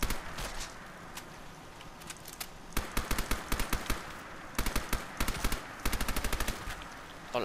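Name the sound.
gunfire in a video game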